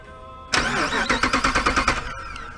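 The starter of an '05 Jeep Grand Cherokee cranks with a rapid, rhythmic whirring and chugging for about a second and a half after its terminals are shorted, then cuts off abruptly. The sound is loud and close over a steady background hum.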